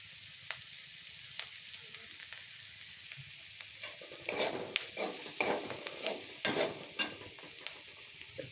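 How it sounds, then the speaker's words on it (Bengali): Spices fry in a pan with a soft, steady sizzle, while a spoon scrapes and stirs in a run of short, close, louder strokes toward the end. "মশলাগুলো একটু সুন্দর করে কষায় নিতে হবে"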